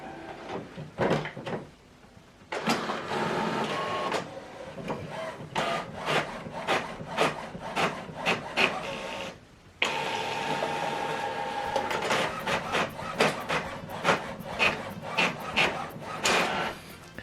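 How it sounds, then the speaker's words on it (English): An HP Officejet printer running a double-sided color print job: repeated clattering mechanical feeds and rollers in bursts, a brief pause midway, then rapid ticking and whirring resumes, close and fairly loud. "Now this document is going to print out."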